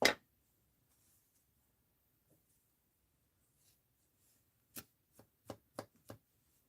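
Scissors snip the ends of handmade tassels shorter, a run of five sharp, close cuts in quick succession after a long quiet pause, with one louder snip at the very start.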